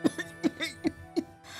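A woman coughs in several short, harsh bursts, close and fairly loud, with brief pauses between them.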